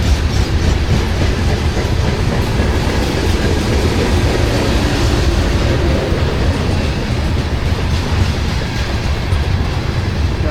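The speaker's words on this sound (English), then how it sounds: "Train's picking up some speed." A CSX freight train rumbles past close by in Ringgold, Georgia, picking up speed, its wheels clattering steadily over the rails in a loud, unbroken roar.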